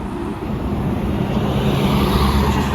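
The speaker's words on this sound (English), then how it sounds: "And here goes a charter bus" A DAPCO charter bus drives past on a road, its engine rumble and tyre roar holding steady and fairly close throughout, with no one talking.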